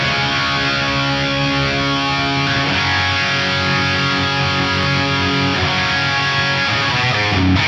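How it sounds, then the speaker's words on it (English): Electric guitar played through a chorus effect with a sine LFO on a Fractal FM3 modeler, sustained distorted chords with a smooth wobbling shimmer, loud and close, continuous throughout with no talking. "I'll let you hear what the stock sine sounds like over here. It basically sounds a little bit more like a traditional chorus."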